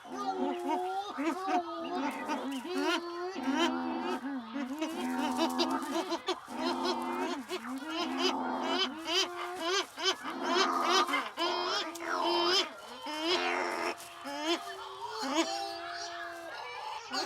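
Cory's shearwaters call at night at their rocky burrow colony in Corsica. A dense chorus of wailing, nasal, goat-like cries overlaps continuously, rising and falling in pitch, with talk heard over the birds.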